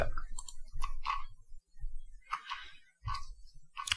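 A computer mouse clicks while configuring iSCSI LUN mapping in OpenFiler for VMware vSphere: several sharp, close clicks spaced irregularly over a few seconds in an otherwise quiet room.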